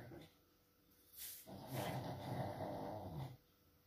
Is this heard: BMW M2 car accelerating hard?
no